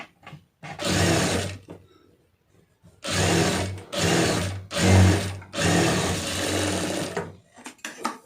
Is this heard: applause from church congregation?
no